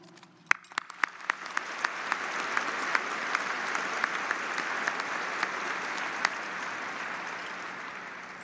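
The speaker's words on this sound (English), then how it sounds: "Please join me in applauding the faculty for their service to OSU and for representing their colleagues at the ceremonies today." A graduation ceremony audience applauds the faculty with sustained, steady clapping that swells and holds, a few sharp individual claps standing out at the start.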